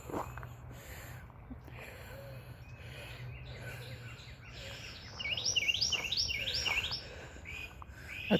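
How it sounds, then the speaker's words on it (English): A loud bird at an outdoor bus stop bursts into a rapid series of high, looping whistled calls midway, repeated several times over faint traffic rumble and ambient noise, with a brief closer chirp at the end. "That's a nice loud bird."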